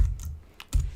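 A few quick clicks of typing on a computer keyboard while entering an email field in an iOS app layout, with a short burst near the start and a louder one toward the end, alone and close by.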